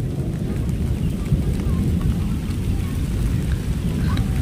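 During a monsoon storm, heavy rain roars loud and constant with a deep rumble underneath, with no clear separate thunderclap standing out.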